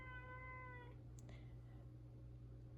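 A pet cat meows once in a drawn-out, tonal call lasting under a second, followed by a faint short chirp, over a steady low hum in a quiet craft room.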